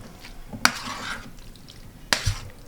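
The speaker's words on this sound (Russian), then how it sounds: "Теперь нам это все вместе перемешать надо." A potato frittata mixture is stirred in a pan: two sharp utensil knocks against the pan, about a second and a half apart, over quiet scraping and a faint background hiss.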